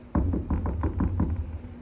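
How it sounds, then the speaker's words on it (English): Knuckles rap on a door in a quick series of about six firm, close knocks, heard on their own with no talking. "They came back home and knocked on the door."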